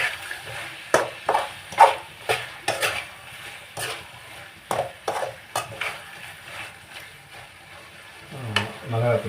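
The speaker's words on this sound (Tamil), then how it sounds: "ஓகே, இப்போ கறி நல்லா வதங்கிட்டு" Chicken is sautéed and turned in a pan for a Tamil-style gravy, with sharp metallic spoon scrapes and clanks against the pan in irregular bursts over a soft sizzle, and a voice speaking now and then.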